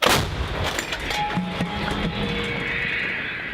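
A single loud artillery cannon blast booms at the start on a frontline battlefield near Pokrovsk, followed by a long rumbling echo that slowly fades.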